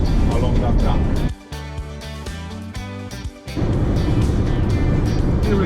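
A Scania skip truck drives along a Scottish Highland track near the Quiraing, its engine a loud steady rumble inside the cab, with a lower geared drone in the middle and someone talking over it.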